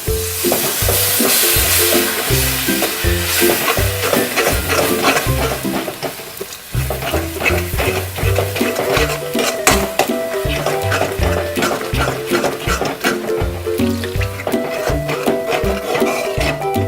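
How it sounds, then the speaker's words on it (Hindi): Milk is poured slowly into a spice mix cooking in a pan for a thick Indian golden milk drink, with steady loud sizzling and rhythmic stirring scrapes throughout, no voices. "अब हम इसमें धीरे धीरे मिल्क डालेंगे, इकट्ठा नहीं डालेंगे"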